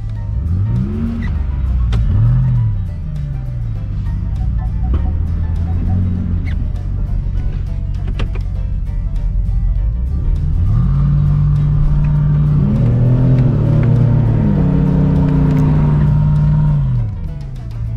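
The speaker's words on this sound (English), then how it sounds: "It's just floor it in reverse the whole time. We're going up the hill." A 2021 Ram TRX truck is floored in reverse up a hill, its engine surging and revving loudly in repeated pulls with some tire noise, close and sustained.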